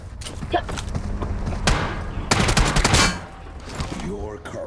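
Gunfire in the mobile battle-royale game PUBG Mobile crackles in quick bursts of automatic shots and single reports, fairly loud, with someone talking over the shooting.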